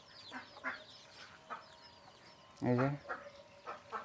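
Chickens cluck at a village coop where ducks live below and chickens roost above, with one loud clucking burst partway through among softer clucks and bird calls, while a person speaks briefly.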